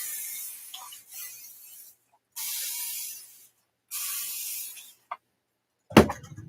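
A handheld spray bottle fires four hissing bursts in a steady rhythm, close and fairly loud, followed by a couple of small plastic clicks and a soft knock.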